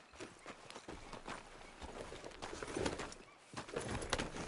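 Hooves of a horse in Red Dead Redemption 2 clip-clop in a steady walking rhythm, close and moderately loud over a constant outdoor ambience with faint bird calls.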